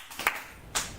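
Children clap twice in quick succession in a Korean church children's service, a pair of sharp, close claps with a bright later burst, no talking.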